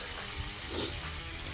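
Water rinses dust down through a Dutch bucket aquaponic system that drains toward a fish pond. It makes a quiet, steady splashing wash with no talking.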